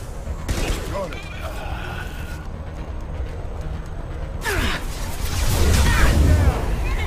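Gunfire during squad combat in Mass Effect 2, with scattered shots and impacts mixed into battle noise, heavier booming near the end, and voices speaking through it.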